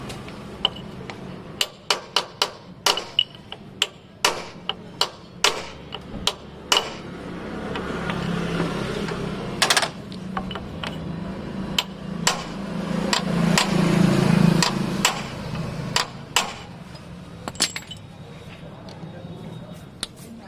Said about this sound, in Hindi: तो दोस्तों इसको हल्का सा ठोकने से ये ढीला हो जाता है।